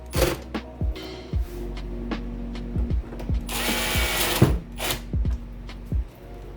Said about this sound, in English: I got my drill on the lowest torque